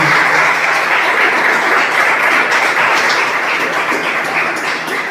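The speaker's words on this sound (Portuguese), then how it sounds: "Palmas para ele." Church congregation clapping together, a steady dense wash of hand claps held at full loudness across the whole stretch, easing only slightly toward the end.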